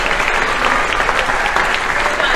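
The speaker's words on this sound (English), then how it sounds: "you can keep clapping for them" A theater audience at an annual showcase keeps up steady, full applause, a continuous wash of many clapping hands at constant loudness, with faint voices beneath it.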